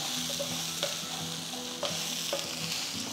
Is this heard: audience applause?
no